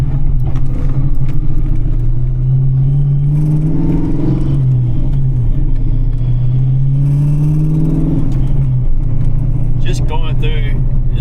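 A car with a swapped transmission accelerates and shifts through three gears, its engine note climbing, dropping at each shift, then rising again. The engine is close and steady, with some talk inside the cabin.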